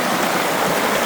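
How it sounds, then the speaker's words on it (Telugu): River water flows steadily near a frozen lake high in the mountains at sub-zero temperature, a close, continuous rushing wash with no pause. "ఇక్కడ వాటర్ వెళ్తున్నాయి"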